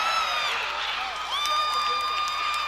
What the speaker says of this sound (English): the biggest cheer of the night from the Marion County faithful